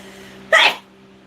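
A single sharp sneeze bursts out close and loud, lasting roughly a quarter second before cutting back to a quiet room with a low steady hum.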